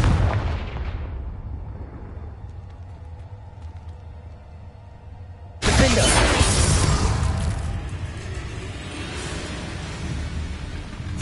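A magical blast spell bursts with a heavy, booming explosion in a Hogwarts video game, followed by a sudden loud crackling roar that rumbles on as debris-like noise to the end.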